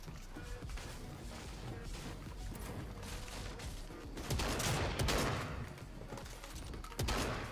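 Shotgun fire in the Fortnite video game during a Season 3 fight, with loud gunshots and crashing impacts over a dense game soundscape, the blasts strongest around the middle and end, while a player talks.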